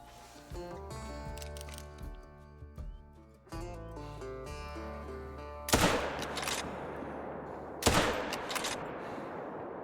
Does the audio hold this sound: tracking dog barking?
no